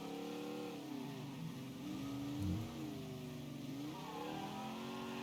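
Car engine revving in the video game Mafia III, a sports-class car's mid-pitched engine rising and falling through several accelerations, fairly faint and steady without speech.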